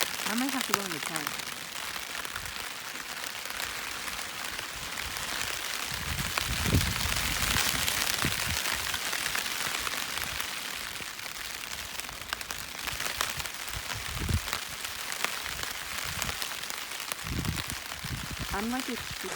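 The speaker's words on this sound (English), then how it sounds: "It's been raining for the last probably 4 hours" Rain patters steadily on a tent during a backpacking trip in Olympic National Park, a dense close hiss of drops on fabric, while people talk intermittently underneath.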